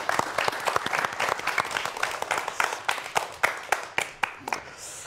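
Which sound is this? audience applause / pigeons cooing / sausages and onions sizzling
audience applause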